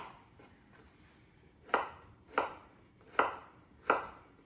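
Knife chopping a large zucchini on a cutting board: four crisp, evenly spaced chops, close and clear, with quiet background otherwise and no talking.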